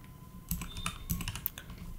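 Typing on a computer keyboard while writing Nuxt 3 code, a steady run of close, crisp key presses with a few heavier strokes, no talk.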